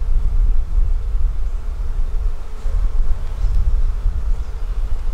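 Honey bees buzzing loud and close in a dense, steady drone during an inspection of bee barn hives before harvest, the hum swelling slightly now and then with no voices.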